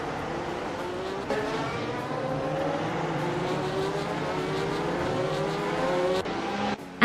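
A Lotus 77 race car engine drones steadily in a racing video game, its pitch climbing and dropping through gear changes across several seconds, loud and continuous with a brief cut near the end.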